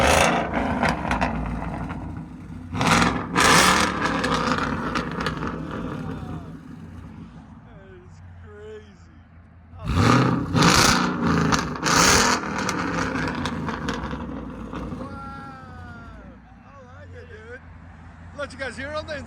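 Loud V8 exhaust revs from a 2013 Ford Mustang GT 5.0L with Solo Performance exhaust in two strong bursts, with people talking over and between them and the engine burbling at idle.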